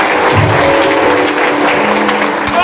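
Steady crowd applause at a Christian youth gathering in a church, filling the space continuously and loudly from start to finish with no pauses.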